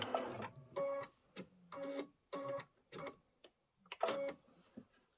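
Embroidery machine stitching a seasonal table runner in the hoop, giving short bursts of rapid mechanical whirring and ticking with brief pauses between, close and without talk.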